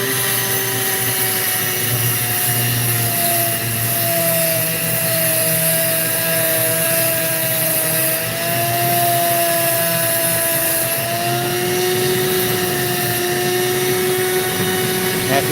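Opal being cut with a power tool, a loud continuous whine with steady tonal hum that barely changes pitch, close and constant throughout with no talk.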